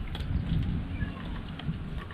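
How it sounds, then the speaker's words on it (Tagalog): Steady rain patters continuously on a surface, a soft, even hiss with faint scattered drops and no voices. "Timing tayo sa ulan."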